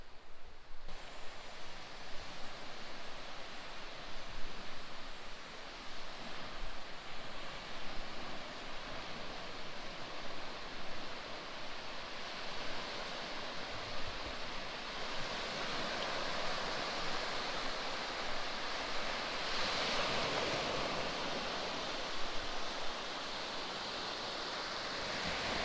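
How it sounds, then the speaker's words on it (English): Big waves rolling in and crashing on a Lake Huron beach under an offshore breeze, a steady broad roar of surf with swelling breakers, heard alone. "the waves are crashing out there"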